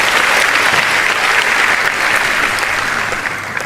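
Audience applause at a youth forum speech, dense and loud continuous clapping that stays steady and then eases slightly toward the end.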